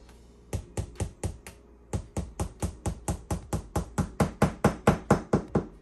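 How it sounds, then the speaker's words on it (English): Rapid series of close, crisp hammer taps driving a dowel down through a cake into the cake board, a few spaced knocks first, then about twenty quick even blows with no voices. "start to hammer that till this goes all the way down into the cake board"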